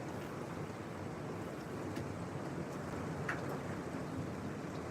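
Heavy rain pours down during a thunderstorm as a dense, constant broadband hiss, loud and steady without let-up, with no voices.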